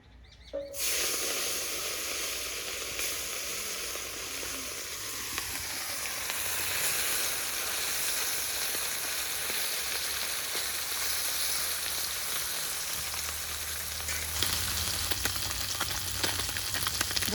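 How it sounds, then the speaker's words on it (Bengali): Maya fish fries in hot oil in a wok, a loud hissing sizzle that starts abruptly as the fish goes in and then continues steadily and close for over fifteen seconds. "মাছগুলো এবার তেলে ছেড়ে দেবো"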